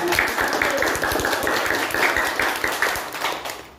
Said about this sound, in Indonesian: Beri aplaus buat tim Mahesa